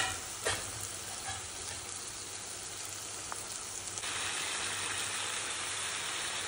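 Ginger and garlic hitting hot oil in a pan, a steady, close hiss of sizzling that swells slightly louder toward the end, with a faint background hum.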